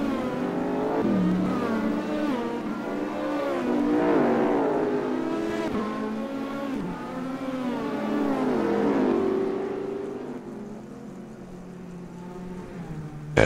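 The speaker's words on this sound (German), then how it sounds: "Wir wollen natürlich dann schon die Autos losfahren sehen." Race cars pulling away in a racing video game, engines loudly revving and climbing through gears in overlapping rising whines that surge, ease, then surge again before thinning out near the end.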